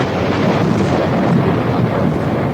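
Dense, loud wash of heavy rain with deep rolling thunder, continuous and unbroken throughout.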